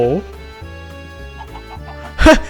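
Chickens clucking in the video game Minecraft, short clucks over game sounds, with a louder burst near the end, while a person talks.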